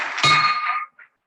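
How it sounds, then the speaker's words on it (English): A bell is struck once at a Rotary Club meeting in Oakland, giving a bright metallic clang that rings out and fades within a second, followed by a couple of faint short ticks. "That's my bell ring."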